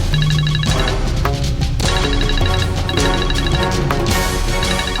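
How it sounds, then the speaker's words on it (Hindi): A phone ringing during a Hindi television drama: a repeating electronic ringtone pattern, loud and continuous, over a dense musical background. "अम्मी का फोन।"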